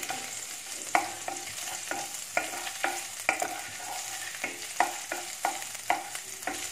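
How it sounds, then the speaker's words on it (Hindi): Ginger and garlic fry over a medium flame for a lemon coriander soup, a soft steady sizzle broken by regular scraping stirs of the pan, with no voices. "मीडियम फ्लेम पे रख के ही अदरक लहसुन को फ्राई करना है।"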